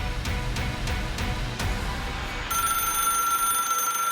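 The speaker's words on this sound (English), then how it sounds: "The telephone was ringing." A few sharp bangs crack out, then a telephone starts ringing with a bright, sustained bell tone.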